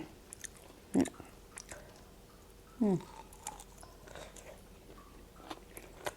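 Chewing on fried buffalo skin seasoned with herbs, two distinct close crunchy bites standing out over a quiet background with small scattered mouth sounds.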